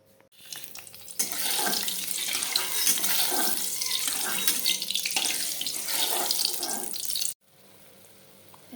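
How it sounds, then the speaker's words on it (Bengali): Water pours into a cooking pot in a continuous loud, rushing splash for about six seconds, then cuts off abruptly, leaving quiet kitchen room tone. "আমি জল দিয়ে দিলাম, আমার সবই দেওয়া আছে।"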